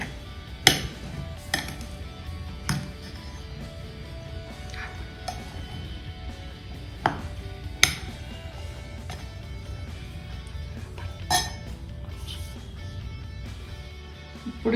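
Mango pickle pieces mixed with mustard powder and fenugreek powder, steady stirring sounds with repeated clinks of a utensil against a dish.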